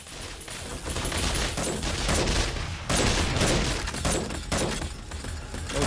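Turrets fire nonstop at zombies in 7 Days to Die on insane difficulty, loud dense gunfire rattling for the whole stretch with bursts of impacts and booms.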